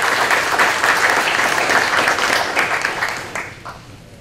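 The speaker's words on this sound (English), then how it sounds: "So a big round of applause for our tonight's sponsor." An audience at an evening lecture series applauds the night's sponsor, a dense, loud burst of clapping that holds steady and gradually tapers toward the end.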